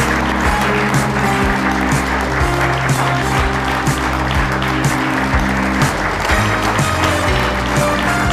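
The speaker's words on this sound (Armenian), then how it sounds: "խնդրում եմ նորից ծափարեք իրեն" Audience applause at a stage show, dense and steady clapping filling the room throughout, with music-like tones underneath.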